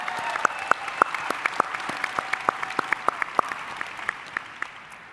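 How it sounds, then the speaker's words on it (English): Applause for a panel of environmental justice activists at a climate training event, a crowd clapping steadily with a few sharp, close individual claps standing out, tapering slightly toward the end. "I think we should give them an extra round of applause."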